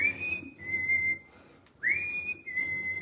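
A person whistles two sustained, sliding tones during a seated chair-based Body Recall exercise session, each phrase rising then holding steady, close and clear with a short pause between them.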